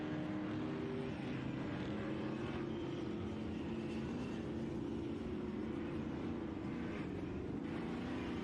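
Ultra4 off-road race cars compete at Prairie City, a steady, loud roar of racing engines heard from a distance that holds constant with no talking.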